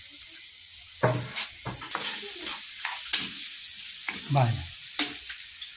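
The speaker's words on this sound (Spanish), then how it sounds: "Para sofreír lo que es el tomate y la cebolla." Tomato and onion sautéing in oil in a pot, a steady close sizzle with repeated stirring scrapes, while people talk briefly over the cooking.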